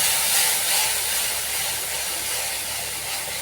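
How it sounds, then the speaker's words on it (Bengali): A paste of onion, ginger, garlic and tomato sizzles hard in hot oil in a wok, a steady loud hiss that barely wavers throughout and carries no talk. "কড়াইতে তেল দিয়েছি, তেল গরম হয়ে গেছে। এবার আমি মশলাটা দিয়ে কষাবো।"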